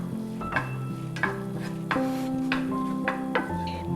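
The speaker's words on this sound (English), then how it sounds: "I'm gonna add the cardamom powder all over and give it a good mix." Spoon stirring ground cardamom into a besan laddu mixture of roasted chickpea flour in a pan just off the stove, with scraping strokes and soft clatters repeating steadily, close and moderately loud, no talking.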